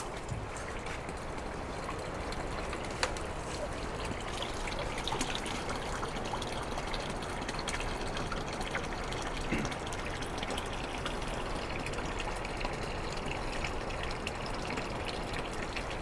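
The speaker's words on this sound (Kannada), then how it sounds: "ನೀರು ತುಂಬ್ಕೊಬಿಡೋಣ." Spring water at a campground near Mooney Falls in Havasupai runs steadily into a bottle, making an even, continuous trickle and gurgle close by, with no voices.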